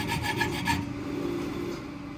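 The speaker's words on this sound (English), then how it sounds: "I'm using a small needle file to meticulously sharpen each individual serration tooth on the spine" A small needle file rasps across the serrated teeth on a knife's spine, with several quick, close strokes followed by steadier, softer rubbing.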